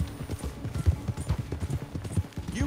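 Hooves pound in a quick galloping rhythm during a horse race in Red Dead Redemption 2, steady and fairly close, with a faint snort or whinny near the end.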